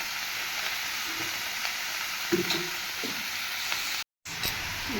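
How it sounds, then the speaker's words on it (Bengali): Snake gourd frying with salt and turmeric for a chorchori, giving a steady, close sizzle throughout with a few soft stirring scrapes and a brief dropout near the end. "এটাকে আগে লবণ হলুদ দিয়ে ভালো করে ভেজে নেব"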